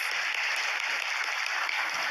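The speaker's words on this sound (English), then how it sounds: "Please give them a round of applause" Audience applause after a prime minister's appearance at an official event, a steady dense wash of many hands clapping at even loudness throughout.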